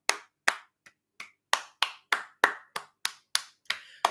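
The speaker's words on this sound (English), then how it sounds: "give a round of applause for Grant Anderson as he says goodbye" A single person claps slowly and sharply at a rugby league match, about a dozen distinct claps at uneven intervals, close and clear against a quiet background.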